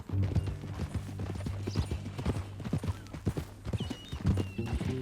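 A horse in the video game Red Dead Redemption 2 clops along with steady hoofbeats and gives a brief whinny, close and clear over a low background drone.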